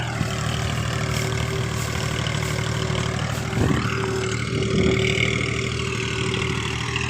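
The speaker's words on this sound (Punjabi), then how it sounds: "ਟਰੈਕਟਰ ਲੋ ਜੀ ਆ ਗਿਆ ਇੱਧਰ ਨੂੰ" A tractor's engine chugs steadily with a low, droning hum, rising briefly in effort midway, nearby and without speech.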